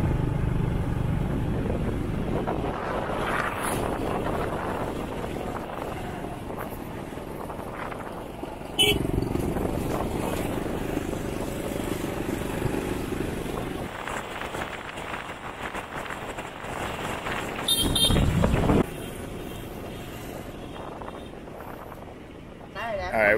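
Motorbike riding through the streets of Hoi An, a steady engine drone with heavy wind buffeting the microphone, swelling in places, and a person talking over the ride.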